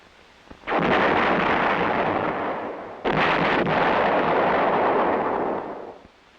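Heavy field artillery gun of the Vietnam War era fires two loud, booming blasts about two seconds apart, each rolling out into a long sustained rumble that slowly fades.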